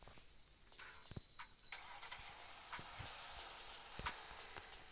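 Engine of a Mercedes CLS car in the Roblox video game, a soft hissing start followed by a steady, fairly quiet running drone with occasional clicks.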